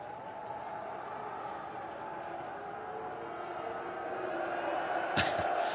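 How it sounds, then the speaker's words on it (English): Football stadium crowd at an AFC Champions League match reacting to a player going down, a distant, steady murmur that swells toward the end, with a brief sharp knock near the close. "the crowd didn't like the way he went down, clearly"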